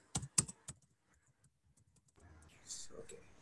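A computer keyboard is typed on up close, a quick burst of four crisp key clicks followed by a few faint taps, then a quiet hum with soft voices in the background.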